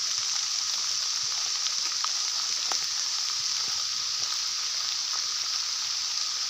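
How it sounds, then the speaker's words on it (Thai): Steady rain falls on a forest hog-pen setting, a constant even hiss with occasional louder drip ticks, no talking. "ฝนตก"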